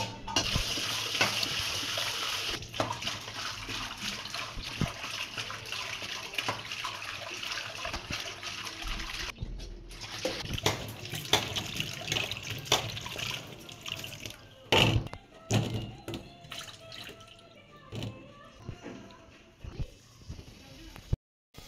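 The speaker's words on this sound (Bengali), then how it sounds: "শুটকিগুলো ধুয়ে নিচ্ছে ভালো করে, অনেক ময়লা বের হয়" Dried fish is rinsed under a steady stream of running tap water, a continuous close splashing and hiss with occasional clatters and knocks, and scattered voices in the background.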